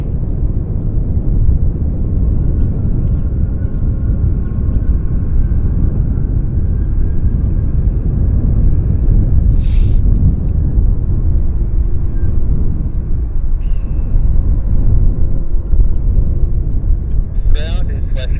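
An airliner landing at Vancouver airport makes a steady, loud, broad roar of engines and rollout rumble that persists throughout, with faint voices in the background.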